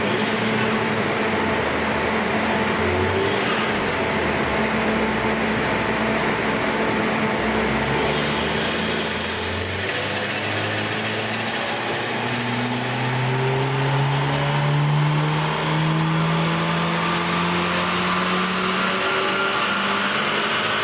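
A stock Volkswagen Golf R with a Sachs paddle clutch on a dyno power run, engine rising steadily in pitch as it revs through the pull, loud and continuous with harmonic whine climbing toward the end.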